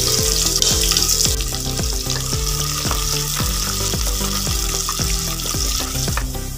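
Sliced shallots and curry leaves fry in hot oil for a Tamil kuzhambu, giving a loud, steady sizzle throughout with a repeating series of rhythmic metallic scrapes, as if a spoon were stirring the pan.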